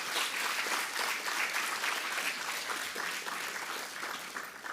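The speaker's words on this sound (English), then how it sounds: "Shall we give a big round of applause to all of them?" An audience in a hall at a professor's inaugural lecture in primary care medicine gives a sustained, even round of applause, with dense clapping that holds steady from start to finish.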